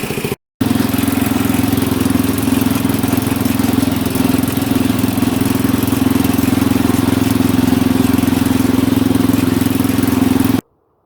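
Repaired tractor engine running steadily on a test drive at dusk, a loud continuous low mechanical drone that holds constant from start to finish after a brief gap, with no voices.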